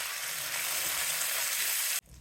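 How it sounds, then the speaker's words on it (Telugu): Tempering powder and curry leaves sizzle hard in hot oil for a Rayalaseema drumstick dish, a loud, steady crackling hiss that cuts off abruptly near the end. "తిరగమాతకి తాలింపు పొడి వేసుకున్నాం కరివేపాకు కూడా వేసేసుకోండి"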